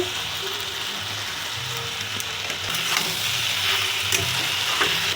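Potato-eggplant mash with turmeric and chili powder being stirred and fried over a low flame, a steady close sizzle with scraping spoon strokes running throughout and growing slightly louder midway.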